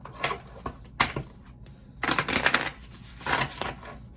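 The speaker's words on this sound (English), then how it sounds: "we're going to shuffle all these back in." A tarot card deck is shuffled by hand in quick riffling bursts, several short crisp flurries with brief pauses between them, close and unaccompanied by speech.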